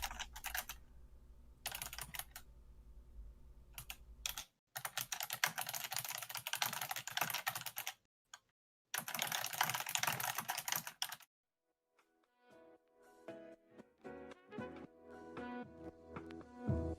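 Rapid typing on a computer keyboard, close and clear, in bursts of dense key clatter broken by short pauses, with a quieter stretch of sparser, individual keystrokes toward the end; no one speaks.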